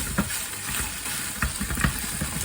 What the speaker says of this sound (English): I'm just gonna stir and break this egg up